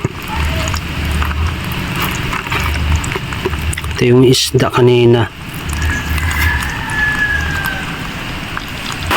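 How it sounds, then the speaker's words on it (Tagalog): Steady, dense heavy rain noise fills the background while a person speaks, with a short burst of louder clattering in the middle. "lumakas ang ulan nung kumakain kami kaya maingay"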